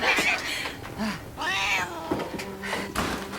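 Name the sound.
cat meowing, from a video game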